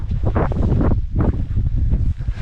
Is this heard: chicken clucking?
no